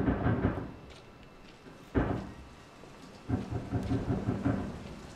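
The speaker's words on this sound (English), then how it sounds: "That rain effect, though." Video game rain and thunder effect from Resident Evil 7: steady rain hisses throughout as low rumbles of thunder roll in three times, the middle one sharp and sudden, the last long and drawn out.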